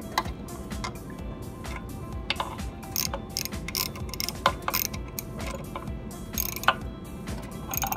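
A hand ratchet clicks in quick uneven bursts, tightening engine mounting bolts close by, with a few sharper metallic ticks and no talk.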